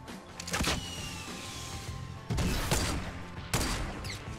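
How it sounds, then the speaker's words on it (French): Sharp gunshot bursts from a Fortnite sniper rifle, two loud cracks near 2.3 and 3.5 seconds after an earlier shot, heard over busy game ambience with no talk. "Je lui ai mis une balle de snipe."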